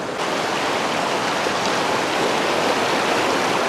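A strong river current rushes by in a loud, unbroken roar of flowing water that fills the scene from start to finish.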